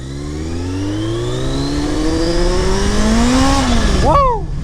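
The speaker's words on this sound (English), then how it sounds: "that was literally the back tire spitting out once it hit in a boost" Yamaha XJ650 Turbo motorcycle accelerating hard on a wet road, engine pitch climbing steadily through a gear before the rear tire breaks loose and spins as boost hits, ending in a sharp rising whine, close and loud.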